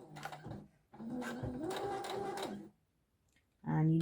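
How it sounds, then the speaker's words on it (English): A sewing machine stitches bias binding around the edge of a Simplicity 1566 gilet in short bursts, the motor whirring steadily for a couple of seconds between pauses, while someone talks over it. "I'm just going to sew around the edge to show you the outer finish."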